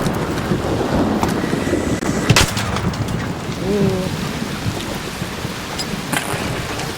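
A thunderstorm in ARC Raiders: steady loud rain and wind noise with a sharp crack of lightning and rumbling thunder, and a voice speaks over it.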